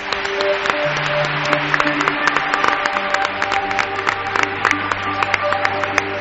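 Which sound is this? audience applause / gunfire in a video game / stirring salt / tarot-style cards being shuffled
audience applause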